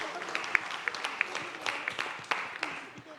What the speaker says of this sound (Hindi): एक बार जोरदार ताली हो जाए अर्जी के लिए यार